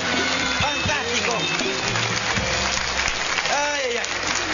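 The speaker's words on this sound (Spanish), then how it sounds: "Un aplauso para doña Pina." A studio audience claps for doña Pina on a 2008 quiz show pitting contestants against an 80-year-old. The applause is dense and steady throughout, with voices calling out over it.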